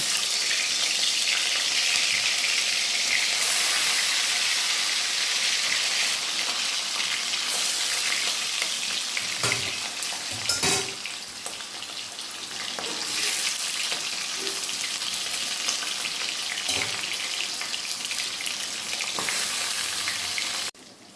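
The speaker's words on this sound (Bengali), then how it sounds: "মাছটা আমি হলুদ দিয়ে মেখে মেখে রেখেছি, এখন আমি ভেজে নেব হালকা একটু" Turmeric-coated hilsa fish sizzles steadily in about one and a half tablespoons of hot oil, a dense continuous crackle with a few scrapes and clinks of a utensil partway through, close and fairly loud with no talking.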